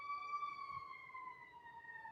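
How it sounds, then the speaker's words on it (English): Emergency siren wailing faintly in the distance, a steady sustained tone with slowly shifting pitch in an urban neighborhood. "I'm sorry about the siren in the background,"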